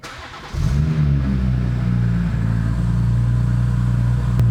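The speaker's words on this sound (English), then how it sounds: "we're going to start our engine" A BMW B58 engine cranks and catches after a brief quiet moment, then settles into a loud, steady idle hum that continues to the end, heard up close.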